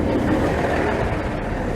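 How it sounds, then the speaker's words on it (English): A German-designed Desiro diesel train, a low-floor Hungarian variant on a local stopping service near Lake Balaton, arriving with a dense rumbling roar of engine and wheels, close and steady throughout. "And here comes our train, the Katowice train as they call it here"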